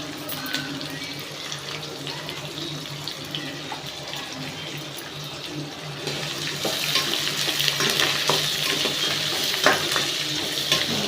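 Onions and curry leaves sauté in a pan for beetroot chutney, making a dense, rushing sizzle with stirring that grows louder and busier midway, sounding almost like running water.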